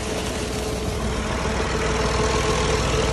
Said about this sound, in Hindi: ये ट्रैक्टर चल रहा है और ये पानी निकल रहा है